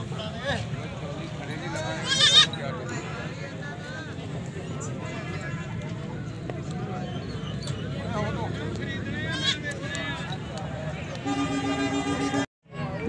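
Goats bleat amid the crowd noise of a busy livestock market in Faisalabad, Pakistan, with near bleats rising over constant chatter and someone talking throughout.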